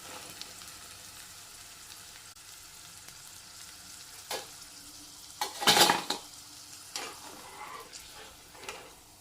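Cauliflower pieces frying in oil for restaurant-style chilli gobi, a soft continuous sizzle with occasional clinks and scrapes of a utensil and one louder burst of spattering partway through.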